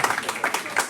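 A church congregation claps along during worship, with rhythmic bursts of hand clapping repeating every few tenths of a second, mixed with faint voices in the background.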